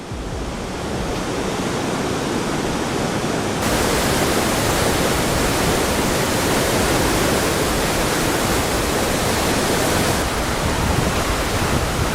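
A rushing muddy river in flood, a loud, continuous roar of churning water that fills the whole clip, growing even denser partway through, with no voices.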